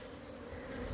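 Honeybees hum steadily and faintly close by at an open hive box while the house bees are sorted from the brood, a soft continuous drone with no voices.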